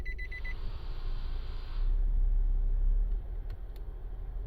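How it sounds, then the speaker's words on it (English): A 2017 Nissan Navara automatic with push-button start: a few short warning chimes, then the engine cranks and catches into a louder, steady low rumble that eases back toward idle. "I'm going to put my key on the start button and start the vehicle."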